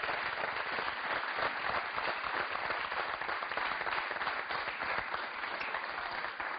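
Studio audience on a television show applauding candidates, a continuous, even roar of many hands clapping, loud and steady throughout with no speech over it.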